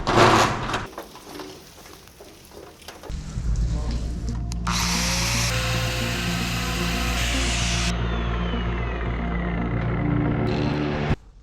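A grinder cuts into a commercial sewer drain pipe in a Seongnam building, a steady loud whining roar that runs for several seconds after a few voices and clatter at the start.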